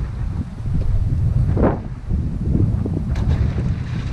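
Strong wind buffeting the microphone outdoors beside water during dog training, a steady loud roar with gusty swells and no talking.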